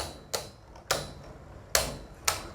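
Beyblades Astral Spriggan and Fafnir spin in battle, giving four sharp clacks at irregular intervals over a faint, steady background, close and crisp.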